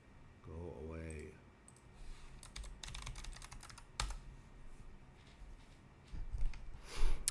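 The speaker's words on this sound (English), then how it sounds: "Again, helps if I can type." Bursts of quick clicking keystrokes on a computer keyboard while logging into Proxmox, fairly close and moderately loud, with a short spoken phrase and a brief sigh before the typing begins.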